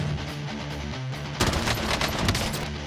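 Video game gunfire crackles in dense rapid bursts of automatic shots, loud and continuous, with the firing growing sharper and heavier partway through, no talking.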